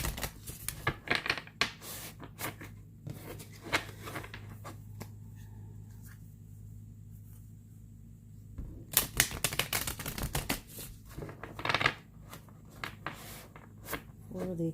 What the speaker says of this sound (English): We'll shuffle one more time.